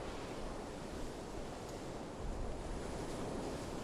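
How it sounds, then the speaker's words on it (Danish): Steady roaring wind of a snowstorm in northeast Greenland on a sledge journey, a dense unbroken rush with buffeting gusts against the microphone, loud and close, with no voices. "Men det er snestorm"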